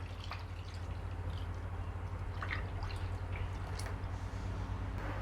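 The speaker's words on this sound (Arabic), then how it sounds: "وكده هضيف عليه لتر لبن او حليب كامل الدسم" A litre of full-fat milk poured into cooked rice in a pot for rice pudding, a soft, steady liquid pour and drip over a constant low hum, close and fairly quiet throughout.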